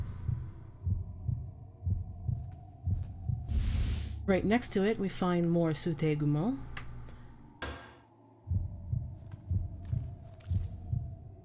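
A rhythmic heartbeat from the video game KUON warns of a nearby ghost, steady low thumps that stop while someone speaks over the game, then resume alone.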